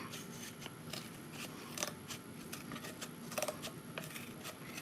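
Scissors cutting through a thick empty tube, giving a series of dry crunching snips with two sharper louder cuts, close and alone against a faint steady background hum.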